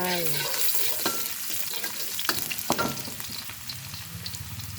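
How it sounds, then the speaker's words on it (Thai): Chopped garlic sizzles loudly in hot oil in a pan for pork fried rice, a dense steady hiss with occasional scraping stirs and clinks, close up and without talking. "ใส่กระเทียมลงไปค่ะ ใส่กระเทียมลงไป"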